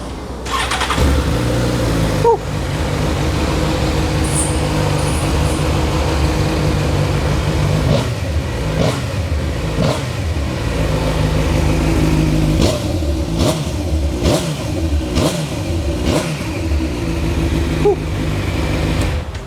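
A sport motorcycle engine starts up and idles with rough low rumble, then revs repeatedly in sharp bursts, close and loud throughout.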